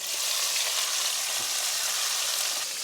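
Two medium chopped tomatoes dropped into onions and garlic frying for a coconut-free chutney, giving a dense, continuous close sizzle that holds steady and loud for its whole length.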